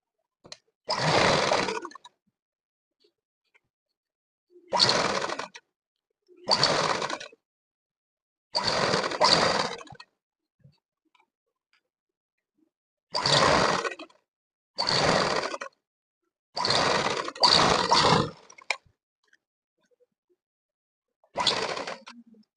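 A sewing machine stitches a school uniform shirt in about nine short, close whirring bursts of a second or two each, separated by silent pauses, with no speech.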